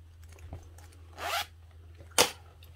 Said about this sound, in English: unzip both of our zippers completely.